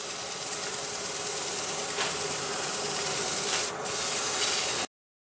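A wood lathe turns a piece at roughly 500 RPM, giving a steady rubbing, sanding-like hiss with a constant high whine for about five seconds before cutting off abruptly, with no talking.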